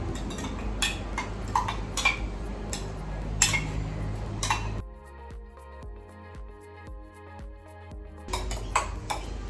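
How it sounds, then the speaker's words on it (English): A spoon stirring chia seeds in a container gives a series of close clinks and taps, then a quieter stretch with ringing tonal notes before the clicking returns. "after you add all the chia seeds, stir it nicely using a spoon"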